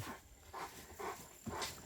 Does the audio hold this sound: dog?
yes